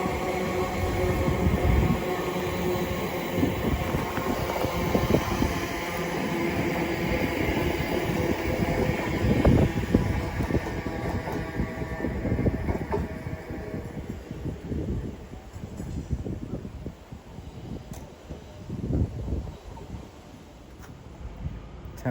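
A Class 345 Elizabeth line electric train pulls out of Shenfield station on the Great Eastern Main Line, a continuous rumbling roll of wheels and traction heard close by, easing slightly as it moves away.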